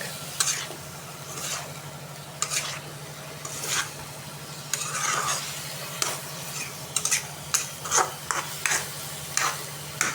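Fish braising in a pan while being stirred, a continuous sizzle broken by repeated scraping strokes and clacks of the spoon against the pan, close and fairly loud over a steady low hum.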